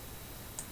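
A computer mouse gives a single faint, sharp click near the end of a short, quiet stretch, with nothing else around it.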